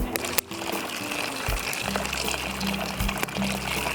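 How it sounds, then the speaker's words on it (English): Water poured into a pot for boiling potatoes over a campfire outdoors, a soft trickling and splashing stream that begins partway through, fairly faint and close, with some handling clatter and no talk. "And then I've got some water, so we're going to just get some potato action boiling."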